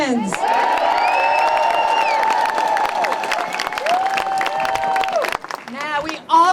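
A rally crowd in Hudson, New York, applauding and cheering loudly for veterans, with whoops and shouts carried over steady clapping, fading near the end as a speaker resumes.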